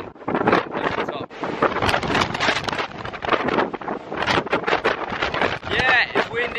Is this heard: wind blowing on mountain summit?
yes